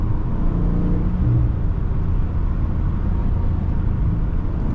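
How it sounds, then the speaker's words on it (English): A 2023 Dodge Charger Scat Pack Widebody Last Call accelerates on a neighborhood street, a steady loud engine drone with a faint high whine over the rumble, continuous and close, with no voices. "do y'all hear my supercharger whine?"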